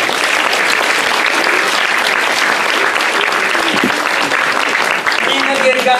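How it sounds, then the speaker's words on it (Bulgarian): An audience at a children's art award ceremony for a drawing of a Russian church claps steadily and loudly, a dense, even applause filling the hall without pause, with faint voices mixed underneath. "аплодисменти му"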